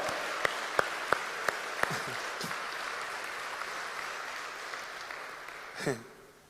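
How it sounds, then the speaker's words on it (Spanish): Scattered claps build into steady applause from a church congregation during a sermon, moderately loud, with a sharp thump or knock near the end. "un aplauso grandote al Señor, vamos"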